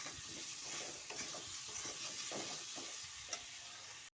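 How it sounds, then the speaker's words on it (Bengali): Mango sautéing with salt and turmeric in a pan, a steady close sizzle with repeated stirring scrapes throughout, no voices. "লবণ আর হলুদটা দিয়ে আমি আর একবার ভালো করে কষিয়ে নিচ্ছি"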